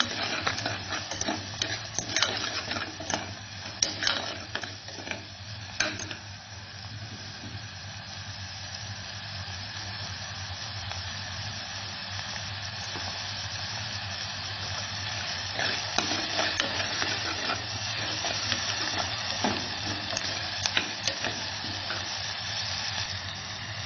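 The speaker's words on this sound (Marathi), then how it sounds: "कांदा टोमॅटो आपले छान परतून झाले." Onion and tomato with salt sautéing in a pan, a continuous soft sizzle and hiss with scattered stirring clicks and scrapes in the first few seconds and again later, steady and moderately quiet with no talking.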